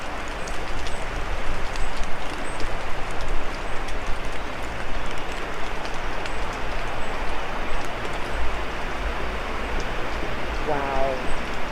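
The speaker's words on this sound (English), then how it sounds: "This is the sound of spruce needles." Spruce needles falling in a steady, dense patter like rain, from spruce trees dying off after drought in Germany, a continuous broadband hiss with soft ticks that holds at an even level throughout.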